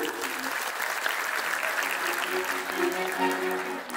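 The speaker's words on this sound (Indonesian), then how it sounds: "Boleh tepuk tangan yang meriah sekali lagi" Sustained applause for the top three grand finalists of the BI Star 2025 competition, dense clapping filling the whole stretch at steady loudness, with faint musical tones or voices running underneath.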